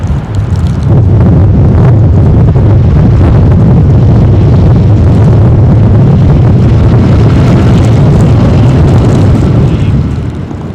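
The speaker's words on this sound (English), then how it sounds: "Winds are gusting to about 35, 40, blowing the snow coming in off the beach." Strong wind gusts roar and buffet the microphone in a continuous, loud rush during a snowstorm on a beach in Boston, with no clear voices heard.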